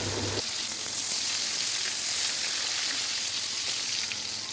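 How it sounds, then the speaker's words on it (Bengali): Pointed gourd pieces coated in turmeric and salt fry in mustard oil, giving a continuous, even, close sizzle after a brief soft opening, with no voices. "এবার সর্ষের তেলের মধ্যে আমি হলুদ নুন মাখিয়ে পটলগুলোকে লাল লাল করে ভেজে নেব।"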